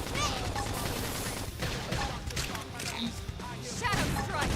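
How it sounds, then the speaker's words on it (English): Flame grenade attack in Xenoblade Chronicles X, a dense run of explosive bursts and crackling impacts amid busy battle effects, loud and continuous throughout. "Flame grenade."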